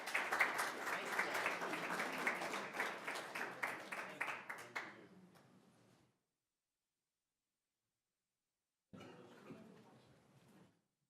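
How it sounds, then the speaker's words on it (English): An audience applauds at a city council session, sustained clapping for about five seconds that fades out, then a shorter burst of clapping after a pause. "Give our library a round of applause."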